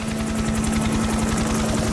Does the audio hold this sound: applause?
no